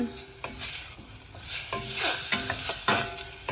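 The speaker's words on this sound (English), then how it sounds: "They're just cooking in the butter" Chicken livers and other ingredients cooking in butter over medium heat for homemade pâté, a steady close sizzle with repeated spatula stirs and scrapes against the pan, no speech.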